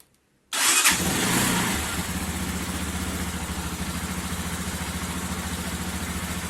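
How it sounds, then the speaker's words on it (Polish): A Romet K125 FI motorcycle engine starts after a moment of silence, catching with a loud burst of revs and then settling into a steady, close, rhythmic idle. "Motocyk ładnie odpalił."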